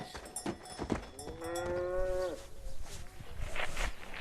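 A cow at an animal rescue gives one drawn-out moo, close and fairly loud, rising then holding before trailing off, with faint rustling and movement around it.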